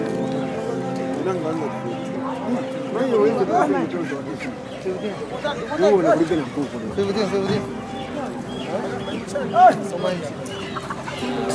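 Chickens cluck and chatter steadily at a Zambian market, a busy mix of fowl calls under continuous nearby human talk.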